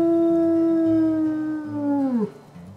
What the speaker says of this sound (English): Seem to be hearing wolves, so I shall howl too.